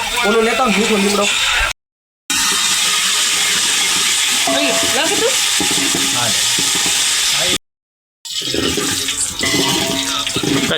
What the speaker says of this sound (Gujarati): તેલ આવી ગયું એટલે આપણે આમાં મીઠો લીમડો નાખી દીધો છે